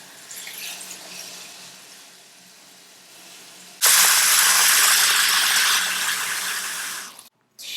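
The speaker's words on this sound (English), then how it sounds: "Now add enough water to fill up a little more than half of the pot," About eight cups of water poured into a soup pot in a home kitchen: faint background noise, then a sudden loud rushing pour that lasts about three and a half seconds before cutting off.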